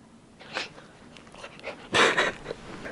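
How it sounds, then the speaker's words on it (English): A wiener dog makes soft, breathy whimpering and snuffling sounds, a few faint bursts building to a louder huffing whine near the end, close to the microphone. "Now, you guys aren't so much interested in my little wiener dog, Bella."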